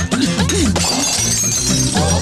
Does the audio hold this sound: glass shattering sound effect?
yes